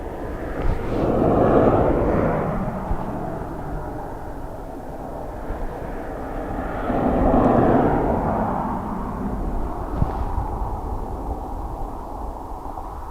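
Airliner passing at Dublin Airport, its broad engine roar swelling twice as the aircraft moves past, steady and fairly close with no talking.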